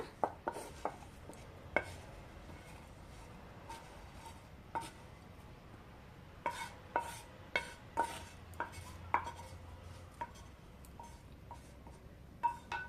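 Cooled green tomato chutney ingredients are pounded on a grinding stone, giving sharp, close knocks at an irregular pace over a quiet background with no talking.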